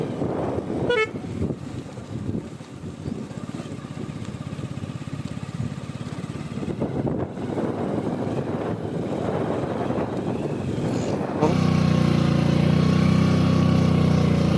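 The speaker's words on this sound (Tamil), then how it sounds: "ஆப்போசிட்டு ஒரு பெரிய வண்டி வருது, லோடோட டிராக்டர்" A loaded tractor approaches from the opposite direction on a road ridden on a 2014 Hero Splendor motorcycle. A steady engine drone carries a brief horn toot early, and the noise grows louder and harsher near the end.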